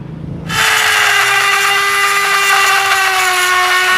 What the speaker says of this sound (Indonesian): kita lanjut pakai yang mata tuner ini ya karena tadi pakai bor ini lama banget